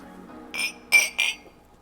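Three bright glass clinks ring out close by in a quick toast, the first softer and the last two sharp and crisp, each with a short shimmering decay over a low background hum.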